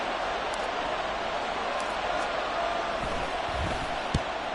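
Football stadium crowd applauding the defense after a stop on third down, a broad steady roar of cheering and clapping that fills the whole stretch at an even level, with one sharp knock near the end.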